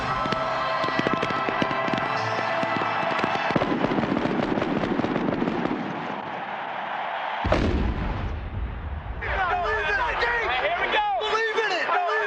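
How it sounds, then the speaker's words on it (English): Fireworks burst over Miami during the 1994 NFL season, a dense rapid crackling of explosions and bangs that continues without pause, mixed with music and a narrating voice. "The fireworks that lit up the Miami sky"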